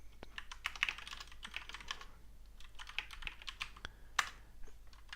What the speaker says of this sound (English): my typing is worse than ever